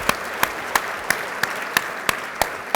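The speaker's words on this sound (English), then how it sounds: "Please join me in another round of applause." At an early childhood education conference, sharp separate claps ring out at an even, steady pace, about every third of a second, over a faint roomy background.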